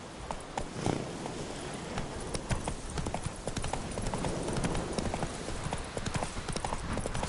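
A horse galloping in The Witcher 3, its hooves clip-clopping in a fast, steady rhythm over a constant background rumble, moderately loud and close.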